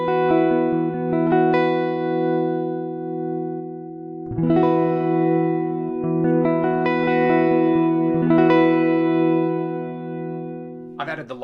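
A sustained, chord-like string synth pad drones with large plate reverb, its tone shifting as it pans left and right, re-articulating a few times before cutting off.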